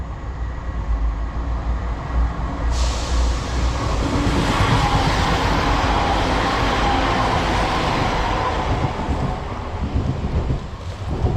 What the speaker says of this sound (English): Right on cue, train passing by.